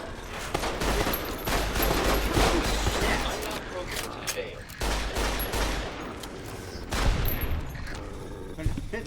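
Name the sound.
gunfire from weapons in the video game Fallout: New Vegas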